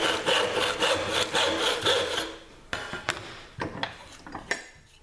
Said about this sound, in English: using the whole length of the saw